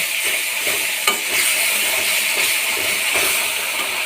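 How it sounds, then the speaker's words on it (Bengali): Spice paste with a splash of water is stirred and sautéed in a pan, giving a loud, continuous sizzle and steamy hiss with irregular scraping strokes throughout. "সামান্য পরিমাণে জল দেব, দিয়ে মশলাটাকে কষে নেব"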